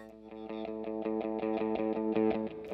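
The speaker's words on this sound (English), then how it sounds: "We're still here with the tube distortion pedal. Let's go ahead and see like where our gain options are." Electric guitar played through a Fender MTG tube distortion pedal, a run of rhythmic distorted chord strums with sustained harmonic tones, growing slightly louder, no talking.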